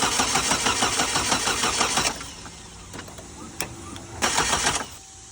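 A Hummer H3 engine cranks with a fast, rhythmic starter chatter during fuel pressure testing, then goes quiet before another short crank burst, loud and close.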